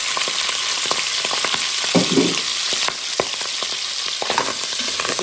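Boucané, smoked pork, sizzling as it fries in a pan with peas: a steady close crackle with scattered sharp pops and bursts of spitting fat, no voices.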